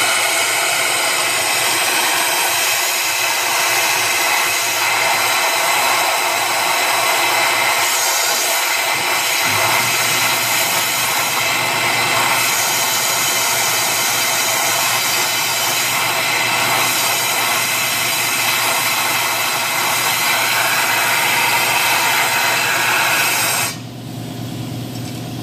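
A steady, loud hiss of compressed air at 110 psi from an 80-gallon compressor blows metal shavings out of a spark plug hole on a two-valve Ford Triton engine, running continuously for over twenty seconds before it drops off near the end.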